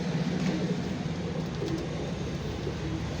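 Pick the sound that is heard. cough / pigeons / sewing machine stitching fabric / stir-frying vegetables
pigeons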